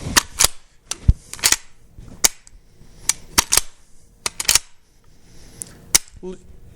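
The action of a used Winchester Model 12 shotgun is worked repeatedly, giving sharp metallic clacks and snaps in irregular pairs and singles, close and loud, with quiet gaps between.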